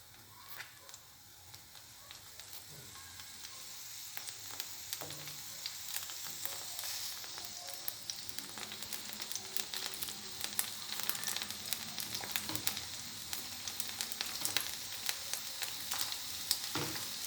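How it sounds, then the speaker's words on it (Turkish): Steady sizzling of Izmir köfte meatballs frying in a little oil, a continuous crackling hiss with scattered pops, fairly close and with no talking. "şimdi çok az bir yağda köftelerimi kızartacağım"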